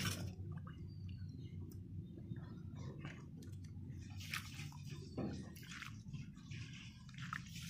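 Grated potato being rinsed in a bowl of water, with soft sloshing, squishing and dripping as the shreds are squeezed and stirred, quiet and close with intermittent splashes over low background hum.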